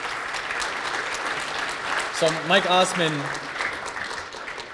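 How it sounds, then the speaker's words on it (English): Applause from a conference audience at a Bluetooth security talk, a steady wash of clapping that carries on while someone speaks briefly over it in the middle. "applause for them"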